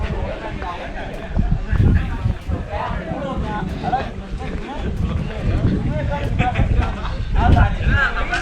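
Strong wind buffeting the microphone at a hilltop viewpoint near old quarters, a steady rumbling roar with gusts rising and falling, heard beneath people talking.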